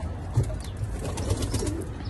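Racing pigeons coo in a loft, a steady low murmur of overlapping calls with soft rustling and occasional wing shuffles, fairly close and continuous.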